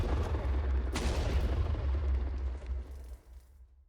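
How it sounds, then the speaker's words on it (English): Explosion in the modded Minecraft pack All The Mods 10: a loud, sustained boom with heavy low rumble and a sharp crack near the one-second mark, fading out over about four seconds. "Explosion."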